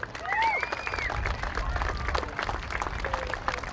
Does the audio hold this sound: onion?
no